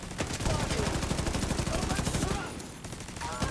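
A game turret fires a fast, continuous stream of close, loud shots in a steady rhythm, easing off briefly toward the end while a voice talks over it.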